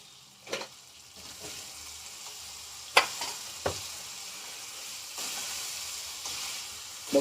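Spice paste (masala) frying in oil in a pan for a spinach and jumbo prawn dish, with a steady close sizzle and a few sharp stirring scrapes and clanks.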